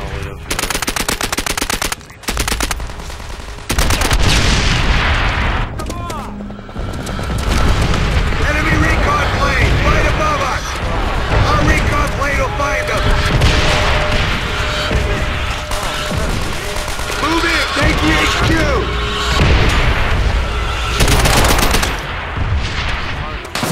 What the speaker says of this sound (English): Our artillery will shake him up!